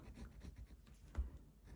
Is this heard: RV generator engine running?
no